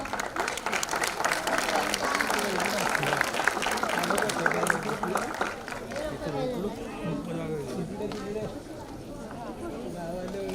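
An audience at a student awards ceremony and family gathering claps after a prize announcement; steady, dense applause fills the room, then thins as crowd chatter rises.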